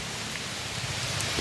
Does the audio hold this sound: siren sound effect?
no